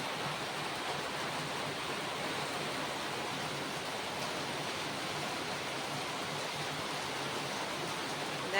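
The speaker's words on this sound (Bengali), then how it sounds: "ভালোই জোরে বৃষ্টি হচ্ছে দেখো।" Heavy rain pours down in a dense, continuous roar, steady and loud throughout, with no voices.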